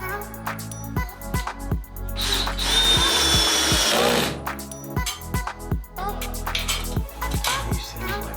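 Repeated short bursts of a power drill whirring while drilling holes for rain screen siding prep, with one longer sustained drilling run in the middle, close and fairly loud.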